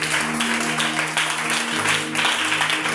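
A church congregation applauds and cheers in praise, a dense steady wash of clapping that fills the room, loud and unbroken throughout.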